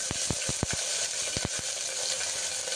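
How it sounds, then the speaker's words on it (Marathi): Ginger paste and onion frying in a pan for homestyle kheema, a steady close sizzle with a quick series of sharp taps and stirring knocks in the first half. "अद्रक मस्त पेस्ट टाकलं शिजायला. त्याच्यानंतर थोडासा कांदा टाकते"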